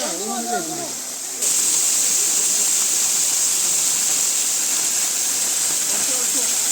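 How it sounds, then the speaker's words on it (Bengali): A waterfall at Sajek in Khagrachari pours down into a river with people bathing, a loud, continuous roaring hiss that starts after brief voices at the opening. "ঝর্নার পানির শব্দ টপ টপ করছে পানি পড়ছে নিচে যাচ্ছে নদীতে"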